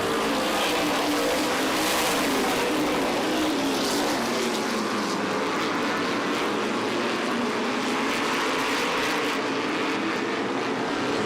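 Stock cars roar past on the oval during the MRS Star 100 race, a loud continuous engine wash with swelling and fading passes, no talk.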